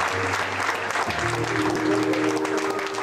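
A crowd at a thanksgiving church service celebrating an election win applauds, a continuous wash of clapping over a sustained musical tone in the background.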